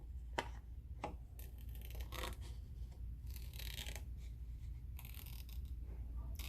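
Scissors snip through a sheet of paper along a vertical line to make three strips: a series of crisp, close, quiet cuts at an irregular pace over a low steady hum, with no talking.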